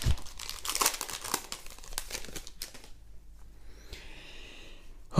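A Magic: The Gathering Ravnica Allegiance booster pack wrapper crinkles and tears open close up, with dense crackling foil for about three seconds, then a short pause and a few lighter rustles of the torn wrapper.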